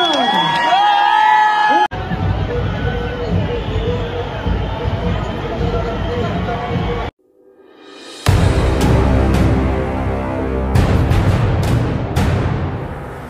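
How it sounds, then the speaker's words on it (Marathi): A large crowd at the Chinchpokli Chintamani Ganesh arrival procession in 2024 cheers loudly and continuously, with a brief pause before renewed roaring, whoops and shouts. "त्यांच्यासाठी जोरदार टाळ्या"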